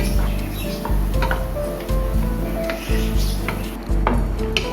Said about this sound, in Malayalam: കുറേശ്ശെയായിട്ട് നമുക്ക് മിക്സപ്പ് ചെയ്തെടുക്കാം